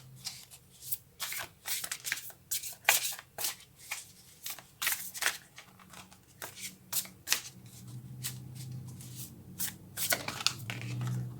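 Tarot cards being shuffled by hand: repeated crisp riffles and slaps of card stock in uneven bursts, close and clear, with no talking.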